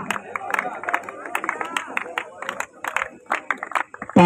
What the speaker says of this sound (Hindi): तालियां बजा करके आप इनका अभिनंदन स्वागत कर सकते हैं।